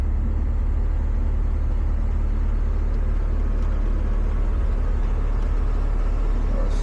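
A Cat 320 excavator's diesel engine drones loud and steady as the machine swings around, a heavy low rumble with continuous mechanical texture and no speech.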